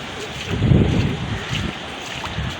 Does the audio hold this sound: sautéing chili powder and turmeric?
no